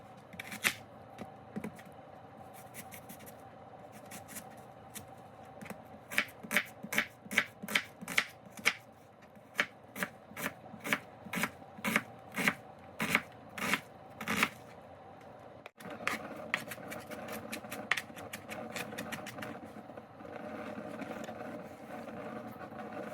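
A knife chops onion on a cutting board in a home kitchen, a steady series of crisp, evenly spaced taps that speed up in the middle and then give way to quieter scraping and handling.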